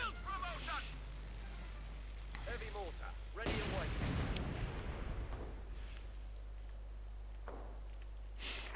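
Artillery fire and bursts from a Vickers machine gun in the Company of Heroes 2 strategy game, a loud cluster of blasts and rattling shots in the middle with talk over quieter stretches before and after.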